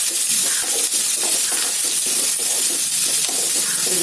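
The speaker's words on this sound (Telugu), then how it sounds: "ఇది కలర్ వచ్చే వరకు హై ఫ్లేమ్లో పెట్టుకుని వేపేసుకోండి" Sprouted chickpeas fry on high flame in a pan, a loud continuous sizzle with crackling and the scrape of stirring throughout.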